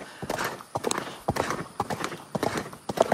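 A horse clip-clops with irregular hoofbeats on wet, flooded ground, close and fairly loud, with occasional voices in the background.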